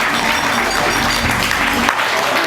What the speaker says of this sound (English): Big round of applause for our honeymoon couple.